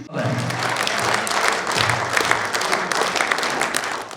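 Sustained applause from a large crowd honouring Kyrgyz improvising folk poets at an event in Talas, dense steady clapping continuing throughout without talk.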